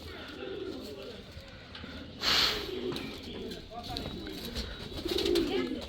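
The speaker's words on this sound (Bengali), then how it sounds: "একসাথে অনেকগুলো কবুতর চলে আসছে আলহামদুলিল্লাহ" A flock of homing pigeons arrives back after a long flight, with soft cooing and a brief flutter of wings heard faintly against outdoor ambience.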